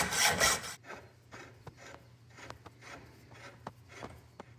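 Hand saw blade cutting through a Rivian tie rod, starting with a harsh rasping burst and then steady back-and-forth strokes, each stroke a short scraping pulse in a fairly quiet space.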